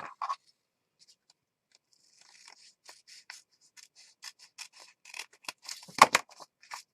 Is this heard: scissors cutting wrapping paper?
yes